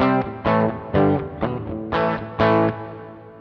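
Electric guitar played through a Tech 21 Fly Rig 5 v2 pedal with reverb on, a few sustained distorted notes and chords struck in a slow rhythm, each ringing out with a reverb tail, close and alone.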